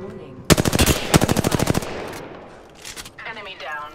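Rapid automatic gunfire in the video game Apex Legends crackles in two loud, close bursts, followed by fainter scattered shots and game effects, with a voice briefly heard near the end.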